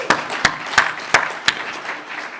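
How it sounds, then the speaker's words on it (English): Sparse, sharp claps ring out from an audience at a talk, about five distinct hits spaced roughly a third of a second apart, then fading to soft scattered patter. "Give yourself a round of applause."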